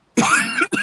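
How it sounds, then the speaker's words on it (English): A single harsh cough close by, broken by a brief pause and followed by a short second burst. "I'm trying not to cough."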